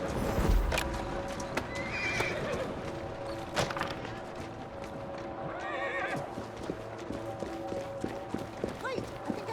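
A horse from the video game Assassin's Creed Syndicate, clopping steadily along a London street with repeated hoofbeats and occasional neighs, amid carriage rattles, ambient noise and talk in the background.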